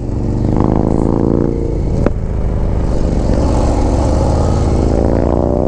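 2024 Harley-Davidson Street Glide with a 135 engine accelerating hard, a loud close rumbling exhaust with rising tones, wind noise and a sharp clack partway through.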